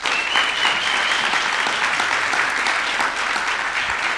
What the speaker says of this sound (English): please appreciate the entire organizing committee with a round of applause